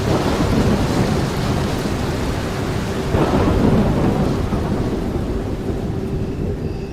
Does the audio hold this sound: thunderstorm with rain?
yes